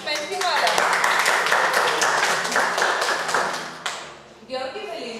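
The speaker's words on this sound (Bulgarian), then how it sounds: "аплодисменти, моля" Guests applauding at a civil wedding ceremony, a dense burst of hand clapping lasting several seconds before fading, with voices heard underneath and afterward.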